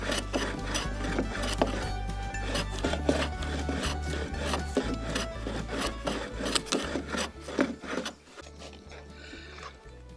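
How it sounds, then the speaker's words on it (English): Repeated rasping strokes of planing and sanding marine plywood off a wooden boat deck, rhythmic scraping close up over a steady low machine hum. "we finished planing and sanding off the very difficult to remove layer of marine plywood"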